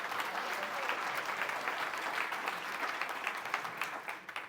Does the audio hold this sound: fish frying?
no